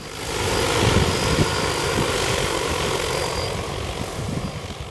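Agricultural drone spraying over a corn field, its propeller drone a steady, fairly close whine that swells slightly and holds level, with no voices.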